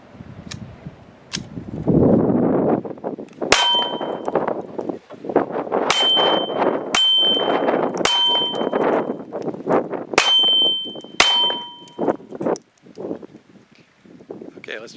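Smith & Wesson Bodyguard .380 pistol shots ring out at an outdoor range, roughly half a dozen sharp cracks spaced a second or two apart with metallic pings, over steady background noise and talk.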